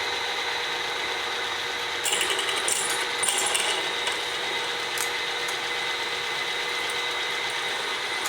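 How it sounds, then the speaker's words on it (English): Drill bit boring a tap-size hole, about 0.200 inch, into metal, a steady continuous whine with slight grinding surges midway, close and fairly loud throughout. "we're going to drill down in here at 200 thousandths"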